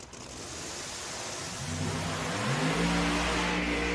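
Limited drag radial race car launching down the strip at Olive Branch, Mississippi, its engine note climbing steadily in pitch and growing louder over roaring crowd and track noise, with no talk.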